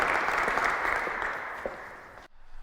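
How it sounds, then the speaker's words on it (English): Dense applause from an audience closing an executive speaker series event, a steady wash of many hands clapping at close range that fades slightly before stopping abruptly. "And a round of applause, please"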